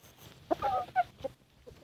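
A chicken clucks a few times at close range, short bright calls in a quick uneven burst against a quiet outdoor background.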